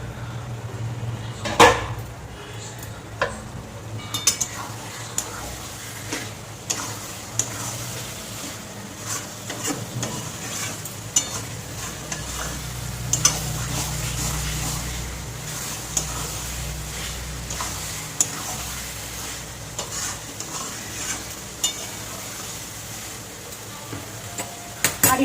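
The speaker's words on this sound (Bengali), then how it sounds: "আর একটু কষিয়ে নেব।" Chicken with rajma is stirred and sautéed in a pan, with a low continuous sizzle and frequent scraping clicks of a spoon against the pan throughout, and no speech.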